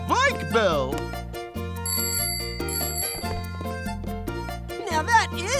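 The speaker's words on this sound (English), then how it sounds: "Presenting my brand new bike bell." A brand new bicycle bell in a cartoon rings in several bright, clear dings among music and cartoon voices, with an excited character speaking around it.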